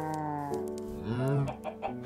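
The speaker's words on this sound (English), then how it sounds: "Chicken. Come on, follow me." A Minecraft chicken gives a short series of clucks and squawks, close and fairly loud over soft game music.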